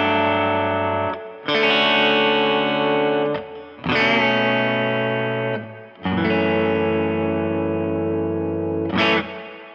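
Thick distorted electric guitar chords in a 4-1-6-3 progression, held and changed roughly every few seconds, a loud buzzing sequence of four chords.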